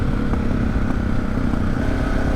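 A Suzuki DR650 dual-sport motorcycle accelerating hard, its engine a loud continuous rumble heard from close by with wind buffeting and no speech.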